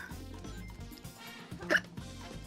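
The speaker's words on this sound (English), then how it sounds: "Excuse me, hiccups." A single sharp hiccup stands out loudly over game music and effects during casual Sonic Battle 2 play.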